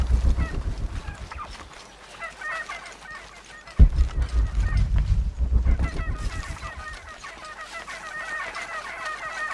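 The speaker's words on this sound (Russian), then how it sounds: "Так, курица, ну-ка тихо." Chicken clucking in the video game Shadow of the Tomb Raider, a string of loud nearby clucks and squawks with a sharp burst midway, mixed with ambient game sounds and no talk.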